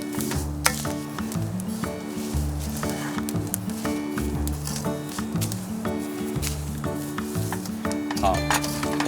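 Salt is dry-stir-fried in a pan for curing pork, giving a continuous gritty sizzle with rhythmic scraping and stirring strokes close by.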